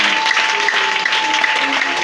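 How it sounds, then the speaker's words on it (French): Congregation at a church service applauding and acclaiming the Lord, a dense, steady wash of clapping and voices filling the room without pause. "Est-ce que tu peux acclamer le Seigneur?"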